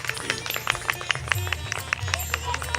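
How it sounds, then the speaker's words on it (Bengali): Scattered, uneven handclaps from an audience at a Saraswati puja event, sharp and distinct rather than a dense roar, over a low background hum and murmur. "সবাই নিজেদের জন্য আগে একটা জোরে হাততালি দিন"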